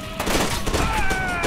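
Gunfire in the shooter game FEAR 2 rings out in a loud, dense burst of overlapping shots, sustained across the whole moment with a metallic tonal ring underneath.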